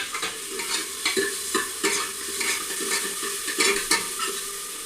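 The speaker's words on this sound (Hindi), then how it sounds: "अब इसमें हम डालेंगे टमाटर।" Tomatoes are stirred into onions already frying and slightly burnt in a pan, giving a steady close sizzle broken by repeated scraping strokes of a spoon at a loose, regular rhythm, with no voices.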